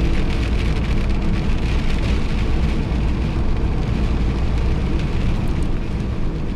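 Steady, dense rain drums on the roof and body of a camper van during a drive along a narrow road in northern Norway, a continuous loud patter with a low rumbling undertone and no speech.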